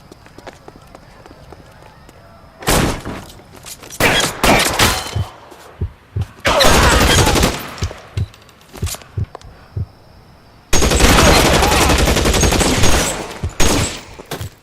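Gunfire in L.A. Noire, a period crime game: loud bursts of rapid machine-gun and rifle fire come in several heavy volleys separated by quieter gaps, with single sharp shots scattered between them.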